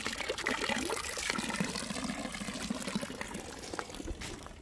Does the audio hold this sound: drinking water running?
yes